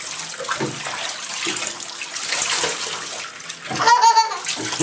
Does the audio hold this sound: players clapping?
no